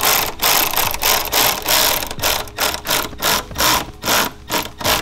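A ratchet wrench runs down a 10 mm bolt while a dual-valve catch can is fitted to a 2015–2023 Mustang EcoBoost. Close, rapid metallic clicking comes in quick bursts, falling into a steady rhythm toward the end.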